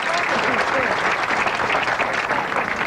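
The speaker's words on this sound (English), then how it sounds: "she's saying that the crowd is clapping too soon" A bowling crowd at a 1998 women's professional stepladder final claps steadily, with dense applause filling the whole stretch, loud and continuous.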